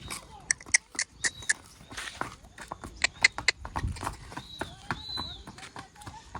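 A Kathiawari mare's hooves clip-clop in quick, irregular clicks on hard ground nearby, with some high whistly tones and faint voices in the background.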